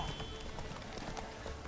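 Galloping horse hooves from The Witcher 3: Hearts of Stone drum in a quick, continuous clip-clop rhythm during mounted combat, moderately loud under faint background noise.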